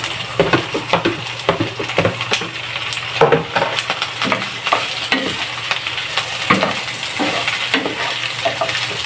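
Leftover crispy pork trotters (crispy pata) frying in a pan for pork paksiw, a continuous sizzle broken by frequent clinks and scrapes of a utensil against the pan, close, no talk.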